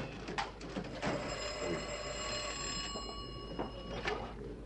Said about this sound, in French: Monsieur Templar, téléphone pour vous.